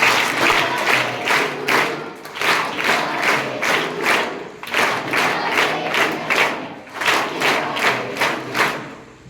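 School students clap in rhythmic bursts at an assembly for their sports teacher's birthday, a loud crowd pounding out repeated pulses of clapping with some shouting, rising and falling over several seconds.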